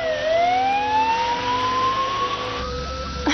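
A military ambulance siren wails loud and close in a rising, sweeping tone that holds steady, then cuts out abruptly near the end, leaving a low engine rumble.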